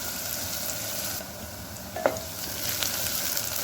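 Onion lightly frying in a pan for a pumpkin (kaddu) curry with vadi, a steady low sizzle with a brief sharp crackle midway, heard alone without talk.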